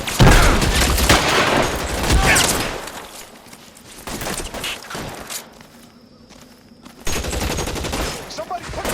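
Gunfire in a LA Noire shootout, bursts of rapid shots and scattered single cracks, loud and close, mixed with shouted voices and footsteps, with a brief lull before firing resumes.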